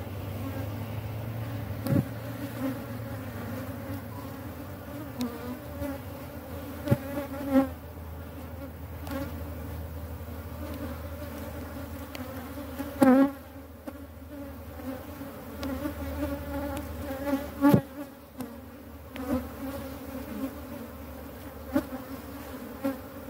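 Honey bees swarm around an open hive being split, a dense continuous buzzing drone close by, steady throughout with occasional sharp knocks and bumps from hive handling.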